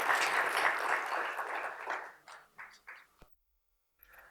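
A crowd applauds loudly for a city controller at a neighborhood council workshop, the clapping thinning into a few scattered claps before stopping, with a faint sound just after.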